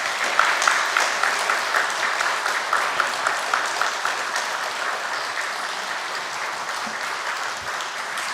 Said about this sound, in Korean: 우리 꽃다발 전할 때 다시 한번 큰 박수 보내겠습니다.